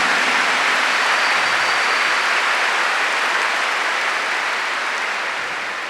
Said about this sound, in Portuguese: Give the Lord a big clap for that chapter.